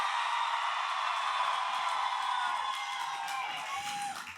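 Crowd cheering and whooping for the Alfa Romeo Formula 1 team at a fan stage event at the Australian Grand Prix in Melbourne, a sustained loud roar of voices that tapers slightly toward the end.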